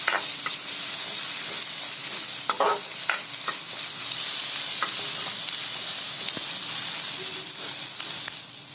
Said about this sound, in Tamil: பெரிய வெங்காயத்தையும் சேர்த்துக்கோங்க. இது எல்லாத்தையும் சேர்த்து நல்லா வதக்கிக்கோங்க.